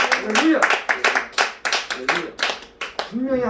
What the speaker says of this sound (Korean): 우리 박수 한번 먼저 치고